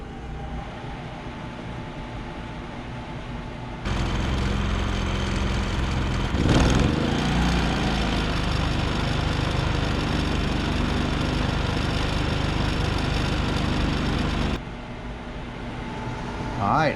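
A Predator 3500W inverter generator idles low, then its engine steps up to a louder steady running drone that holds for several seconds before dropping back, with a voice briefly heard.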